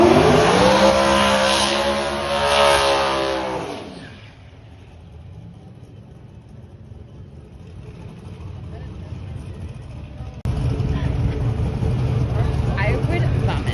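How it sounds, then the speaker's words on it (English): A Ford Mustang drag race car accelerates hard at the strip, a loud rising engine roar that breaks into a broad rushing blast as it pulls away, dips quieter, then surges loud again near the end. "you're going to see me race the same Mustang 2 times"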